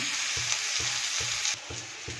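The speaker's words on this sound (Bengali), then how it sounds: "পেঁয়াজগুলোকে ভেজে নিই" Onions sizzle steadily in hot oil while a spoon stirs them in regular, rhythmic scrapes, about five strokes in quick succession.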